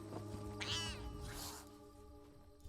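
A cat meows in the video game Elder Scrolls Online, a couple of drawn-out, wavering calls standing out over a steady hum of game music and ambience, with no talking.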